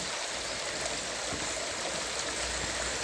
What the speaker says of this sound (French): Comme on peut voir, il y a déjà des mini cascades sur le chemin.